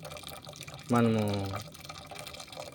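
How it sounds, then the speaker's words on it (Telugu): Water drains off cooked rice for chicken biryani in a home kitchen, a faint, steady trickle beneath a brief spoken word. "ఇలా మొత్తం వాటర్ పోయేలాగా"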